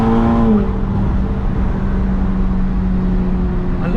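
A tuned Volkswagen Golf GTI Edition 30 drives on a test drive, its engine holding a steady humming drone from inside the cabin, with a slight pitch drop early on and a smooth, even tone afterward.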